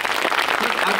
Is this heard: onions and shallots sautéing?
no